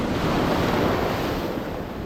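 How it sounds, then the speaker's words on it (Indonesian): Big ocean waves off Nusakambangan island, Indonesia, surge loud and continuous close by, with wind buffeting the microphone throughout. "Oh, ombak besar teman-teman. Ombak besar."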